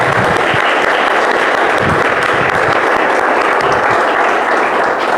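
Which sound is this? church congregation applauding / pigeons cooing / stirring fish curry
church congregation applauding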